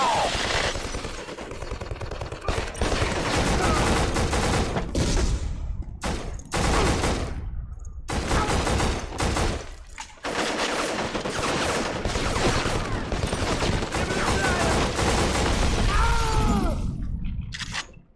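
Sustained heavy gunfire and shattering impacts in the first-person shooter Black, long loud volleys broken by a few short pauses, with debris and breaking sounds mixed in.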